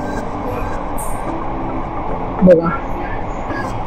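A Mumbai metro train running between Dadar, Prabhadevi and Worli stations gives a steady low rumble and rattle throughout, with a brief louder clunk partway through and a voice speaking briefly over it.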